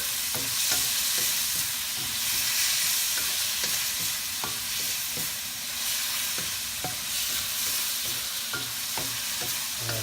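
Lechon pork belly and vegetables sizzle loudly in a pan while a utensil stirs them in steady, repeated scrapes and taps over a constant frying hiss, with no talking.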